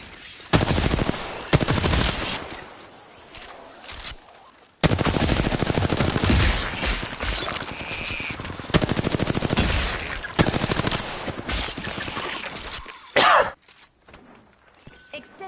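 Loud rapid automatic gunfire in an Apex Legends match, arriving as several long sustained bursts separated by short pauses, with a couple of sharper single shots near the end.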